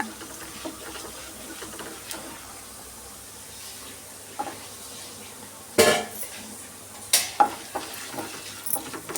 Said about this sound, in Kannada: ಎಲ್ಲ ಸೇರಿಸಿ ಸ್ವಲ್ಪ ಈ ಥರ ಚೆನ್ನಾಗಿ ಕ್ರಿಸ್ಪಿ ಆಗೋ ತನಕ ಫ್ರೈ ಮಾಡ್ಕೊಳ್ಳೋಣ